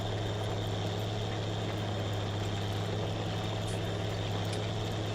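An old Fendt tractor engine idles in Farming Simulator 19 with a steady low drone and a constant hum, unchanging and alone.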